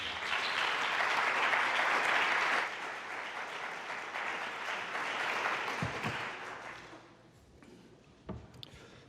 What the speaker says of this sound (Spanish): les voy a pedir un aplauso de bienvenida